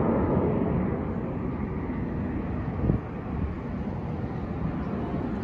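Airplane flying overhead, a broad continuous roar with heavy low rumble and some wind buffeting on the microphone, steady and loud across the whole stretch.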